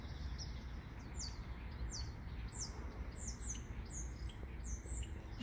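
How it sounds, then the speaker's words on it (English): Grackles give repeated high, squeaky calls, faint and somewhat distant, over a steady outdoor hiss with scattered chirps throughout. "Little grackles. Not to be left out."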